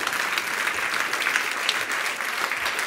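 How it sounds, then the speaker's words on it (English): Steady, full applause from a conference audience at an international head and neck cancer meeting, a continuous wash of many hands clapping without pause. "big round of applause to John R. Cameron"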